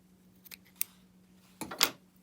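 Fabric scissors make a couple of short, close snips while trimming a quilt block, with a quiet steady hum underneath and no talking.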